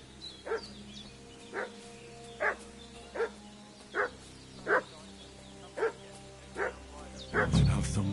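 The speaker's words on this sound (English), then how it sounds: "What's that dog making such a fuss about?" Dog barking in the medieval game Kingdom Come Deliverance 2, about nine sharp, evenly spaced barks at moderate distance over a quiet ambient bed, ending in a brief louder rustle.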